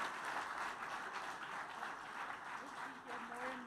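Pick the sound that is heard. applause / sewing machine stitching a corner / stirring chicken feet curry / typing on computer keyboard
applause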